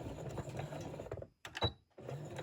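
A domestic sewing machine runs a short reverse stitch to lock the end of a seam on fabric bunting, a steady motor whir in two bursts with a brief pause and a click between them.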